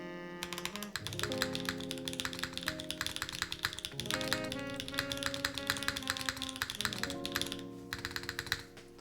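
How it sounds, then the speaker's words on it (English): Steady rapid typing on a wooden TKL mechanical keyboard without foam, dense close clacks continuing throughout alongside sustained background music. "Someone wanted to hear this keyboard? I will show you this keyboard."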